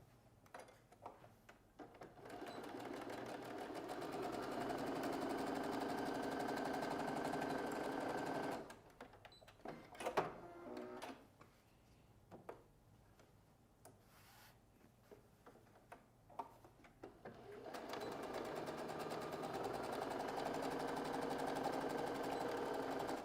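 Domestic sewing machine stitching backpack pattern pieces together, running in a steady whirring burst, pausing with soft handling clicks and rustles, then resuming its continuous close hum.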